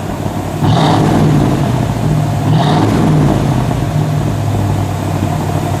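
A 1958 Chevrolet Impala convertible with a fuel-injected engine is revved twice in short blips over a steady idle rumble, loud and close.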